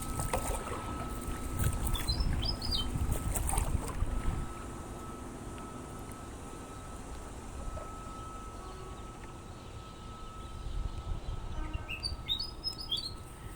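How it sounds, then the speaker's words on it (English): Small birds chirp outdoors in short, scattered high calls, some distant and some nearer, over a steady low background hum and faint wind. "You can't listen to the birds for a minute."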